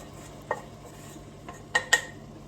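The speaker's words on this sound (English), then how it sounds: "I'm just giving that a stir through. So the bacon and the leeks are lovely and soft." Spoon scraping and clinking in a pan of softened leeks and bacon, a few distinct knocks and scrapes in quick succession near the end, close and fairly quiet.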